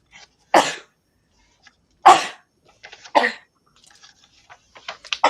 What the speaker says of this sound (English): Bless you if that was a sneeze.